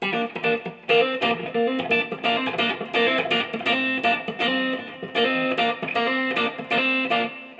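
A song's guitar part played at full tempo on electric guitar, a dense, continuous run of ringing notes and bends, close and steady in level with no voices.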